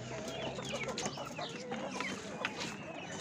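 Several chickens and roosters, including Indian chickens and chicks, cluck and chatter nearby in a busy flock at a poultry market in Gördes, Turkey, fairly faint, with a soft murmur of talk in the background.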